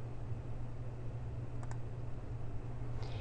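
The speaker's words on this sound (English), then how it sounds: "we're going to click next" Computer mouse clicking while working in Microsoft Word, two quick close clicks followed by another faint click a moment later, quiet and near, no talking.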